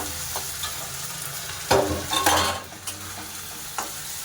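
Leftover bitter gourd curry is reheated in a pan, a low steady sizzle with a few sharp utensil scrapes and clinks from stirring, close and moderately quiet, without speech.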